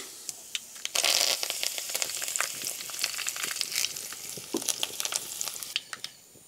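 Mustard seeds splutter and crackle in hot oil while tempering spices for a Mangalore-style salted jackfruit dish, a dense, steady sizzle scattered with sharp pops, close by and alone.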